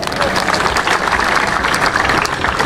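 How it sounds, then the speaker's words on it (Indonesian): A crowd at a football cup award ceremony claps in a dense, continuous burst of applause, loud and close, sustained throughout. "Aplaus untuk kita semua"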